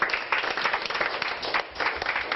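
A group of staff clap for a junior hairstylist in a Cheongdam-dong hair salon, a short burst of close, moderately loud hand claps in uneven bursts.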